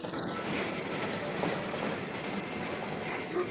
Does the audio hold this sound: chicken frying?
no